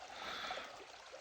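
Creek water on a wooded wilderness trail in West Virginia's Dolly Sods at dusk, rushing and trickling in a steady, broadband wash that stays even and moderately loud without pauses.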